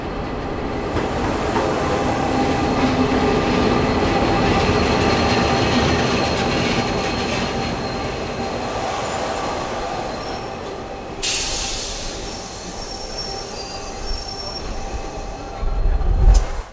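A DFB diesel locomotive hauls a passenger train steadily past into a station at close range on New Zealand's Hutt Valley Line, wheels grinding and squealing on the rails, with a brief hiss and a louder rattle near the end.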